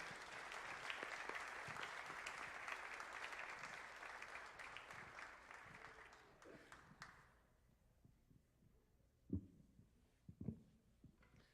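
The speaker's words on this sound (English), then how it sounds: "if we could just give them all one more round of applause because they deserve it" Applause for award winners fills a school board meeting, clapping loud and sustained at first, then fading out into a quiet room with a few thumps near the end.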